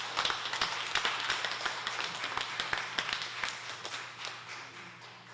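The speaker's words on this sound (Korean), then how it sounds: "박수 한번 드리실까요?" A small church congregation applauds steadily for several seconds, the clapping dense at first and then gradually thinning and fading, over a low steady hum.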